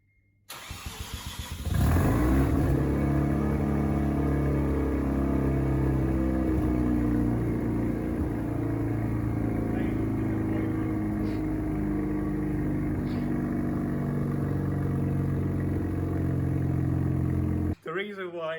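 A Mazda RX7 rotary engine with a custom exhaust starts and revs loudly, then holds a steady, droning rumble for about fifteen seconds before cutting off abruptly near the end.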